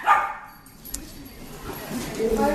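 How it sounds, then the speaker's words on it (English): Dogs barking and yipping at a cottage, a few short barks near the start and more toward the end, moderately close, amid outdoor ambience. "Some wild dogs in here."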